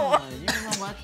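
A person gives a few quick, harsh coughs, close and fairly loud, in an indoor talk-show setting, blending into throaty vocal sounds.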